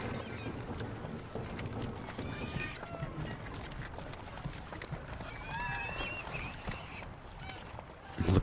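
Ducks quack in a repeated run of nasal calls in the medieval castle-building game Stronghold 2, set against steady game ambience and hoof-like clip-clop sounds, at moderate volume with no talking.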